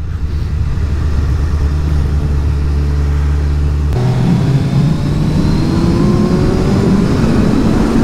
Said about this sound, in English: So I've just changed down three gears there,